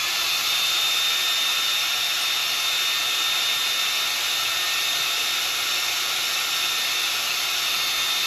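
A heat gun heat-setting paint on a crankbait, a steady close airy blowing hiss with a constant whine, running unbroken and without talking.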